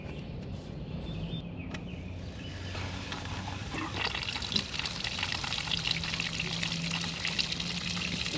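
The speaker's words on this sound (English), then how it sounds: "Run over here and turn your water on." Water gushes steadily from a garden hose into flushing muffs on a Suzuki DF150 outboard, a continuous close splashing and pouring wash that holds without a break and grows slightly louder partway through.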